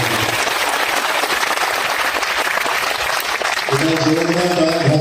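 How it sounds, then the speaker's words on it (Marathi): A crowd at a political gathering in Mhaswad claps loudly for Devendra ji, with dense, sustained applause that holds steady and is joined near the end by a chanting or cheering voice over the clapping. "देवेंद्रजींना एकदा जोरदार टाळ्या वाजवा देतो."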